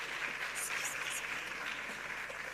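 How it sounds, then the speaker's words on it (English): Applause at a foundation's ten-year anniversary event, a steady wash of many hands clapping at moderate distance, even and sustained throughout. "A round of applause for them"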